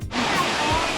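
A rocky waterfall along the Blue Ridge Parkway rushes in a steady, full roar of cascading water, close and continuous, with a faint voice underneath.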